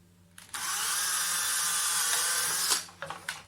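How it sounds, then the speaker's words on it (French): A power drill bores through a plastic can in one sustained, loud, high whine of about two seconds, followed by a few brief bursts as the bit is pulled free. "je perce ici mes deux trous de chaque côté"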